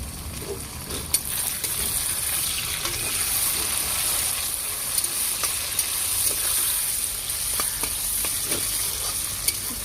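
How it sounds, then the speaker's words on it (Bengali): Onion, tomato and green chili frying in oil in a pan, a loud steady hiss of sizzling with scattered spatula taps and scrapes throughout, close and continuous, no talking. "চলো এবার এটা আস্তে আস্তে টমেটোটাকে ভাজি"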